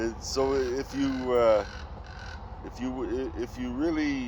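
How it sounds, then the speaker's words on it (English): Crows and other birds calling in the early morning, loud harsh caws repeating under and between a man's speech. "all the birds are waking up"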